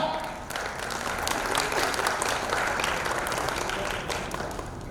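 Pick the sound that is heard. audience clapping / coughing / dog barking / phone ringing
audience clapping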